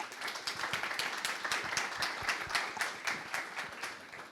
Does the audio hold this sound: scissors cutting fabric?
no